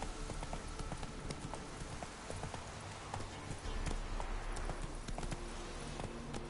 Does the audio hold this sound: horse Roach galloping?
yes